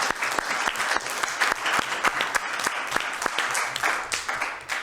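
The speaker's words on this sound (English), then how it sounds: "I'd like to give him a round of applause." At a council meeting, an audience gives a steady round of applause lasting several seconds, with many overlapping hand claps at moderate distance.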